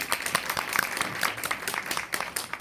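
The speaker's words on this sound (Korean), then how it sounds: "박수 한번 주세요." Light, scattered applause from a small cinema audience at a film talk event, fairly soft and uneven, with individual claps standing out over a couple of seconds.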